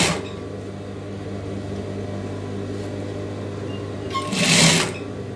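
A sewing machine stitches folded piping onto a chudidar collar, running as a steady, close mechanical whirr with a brief louder burst near the end.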